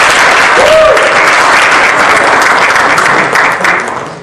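Audience applause fills the room, a loud, dense, steady wash of clapping that fades slightly at the end.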